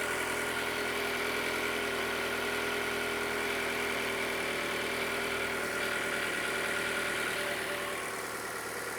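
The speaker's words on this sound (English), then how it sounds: "You can hear that direct injection, how loud it is." Toyota Camry with a direct injection engine idles steadily up close, a constant mechanical hum with a fine ticking clatter on top, fading slightly at the end, no voices.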